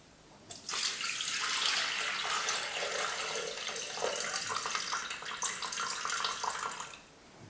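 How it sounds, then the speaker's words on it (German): 500 grams of water running into a Thermomix bowl, a steady close splashing pour of about six seconds that starts abruptly and tapers off, with no talk. "500 Gramm gebe ich in den Mixtopf."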